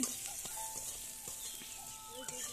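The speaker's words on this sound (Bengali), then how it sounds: "বেসনটাকে ভালো করে একটু তেলে নেড়ে নেব।" Gram flour (besan) with green chilli, turmeric and chilli powder being stirred in hot oil in a pan, a steady bright sizzle broken by occasional scraping strokes of a spoon, close and continuous.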